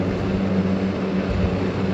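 A steady propeller-engine drone from a turboprop airplane in a flight simulator game, a continuous broadband hum with a low tonal throb, loud and unbroken with no talk.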